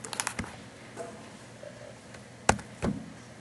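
Typing on a computer keyboard: a quick cluster of light key taps, a lull, then a couple of sharper isolated clicks, close and fairly quiet.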